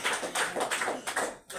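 A classroom of students claps together for classmates who answered correctly, a steady run of quick, close applause with no talking.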